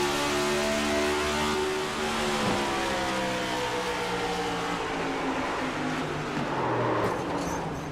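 Onboard sound of an ICON Cup race car at St. Louis: a loud, close engine droning and shifting pitch steadily through the whole stretch, with no talk over it.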